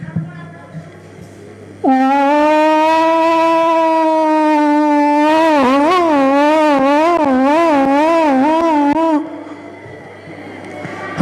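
A human voice imitates a siren, first a long steady wail, then a rapid rising-and-falling warble, loud and close, lasting about seven seconds.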